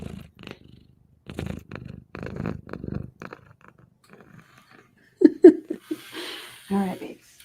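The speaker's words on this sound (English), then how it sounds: "Do you want to purr in the mic?" A pet cat purrs right up against a microphone, heard as close, breathy rumbling bursts near the end after a stretch of quiet talking.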